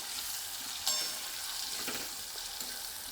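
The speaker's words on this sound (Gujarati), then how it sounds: "તો મરચાં તેલમાં ઉમેરી દઈશું" Red chilies sauté gently in oil over a low flame for pickle-making, a steady, soft crackling sizzle with a faint stir or scrape partway through and no voices.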